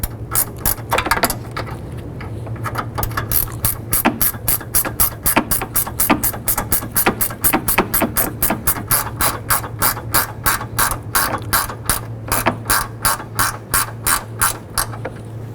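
Ratchet tightening a radiator support bracket bolt on a 2007-2011 Honda Civic, a long run of quick, evenly spaced clicks close by, with a steady low hum underneath.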